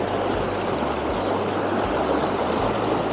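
A small waterfall on a stream along the La Brague hiking trail on the Côte d'Azur gives a steady, full rush of splashing water, close and unbroken throughout with no voices.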